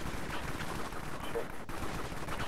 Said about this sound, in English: there's like 50 people shooting